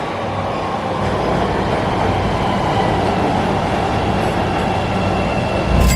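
A Chicago Red Line subway train running through the State Street Subway, a loud continuous rumble and roar of wheels on rails with faint rhythmic clatter, sustained and close from inside the car.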